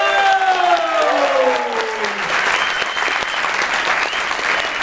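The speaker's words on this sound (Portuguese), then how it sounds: "palmas com muito amor" Audience applause at a book launch in a bookstore, a steady wash of clapping that carries on throughout, mixed with murmuring crowd noise and a voice briefly heard over it at the start.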